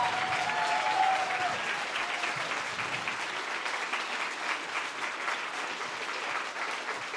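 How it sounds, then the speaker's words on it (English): Sustained applause from a youth event audience for student panelists, a full steady wash of many hands clapping at moderate distance, with a brief whistle early on. "A huge round of applause."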